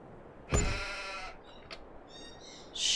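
A sheep on a Farming Simulator 22 farm lets out a loud, drawn-out bleat, followed by a few fainter, shorter bleats and then another strong call near the end.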